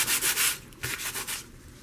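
Wood is sanded by hand with sandpaper in a run of quick rhythmic rasping strokes, close and fairly loud, with no voices.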